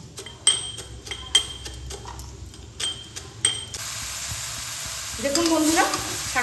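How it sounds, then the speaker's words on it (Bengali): Bottle gourd leaves frying in a pan with broken fried lentil dumplings, a steady close sizzle punctuated by several sharp clinks and scrapes of a utensil stirring, the frying growing louder and hissier toward the end. "এইভাবে শাকটাকে আমি ভেজে নেব"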